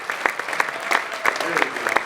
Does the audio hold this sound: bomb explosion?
no